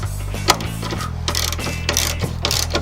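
A ratchet wrench with a 14mm socket tightens the coilover top nuts on a Mitsubishi Evo X, giving close, steady clicking strokes in repeated short runs under a low background hum.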